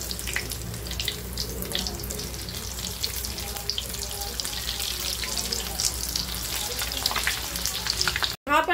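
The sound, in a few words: zam zam kabab frying in a pan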